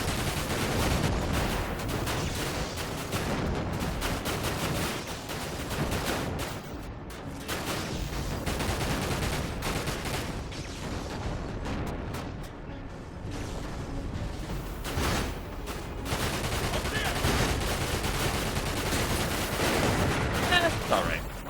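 Gunfire from a vehicle gunner seat in the video game Dirge of Cerberus: dense, continuous automatic shooting and blasts rattle steadily across the whole stretch, loud and busy, with a voice talking over it.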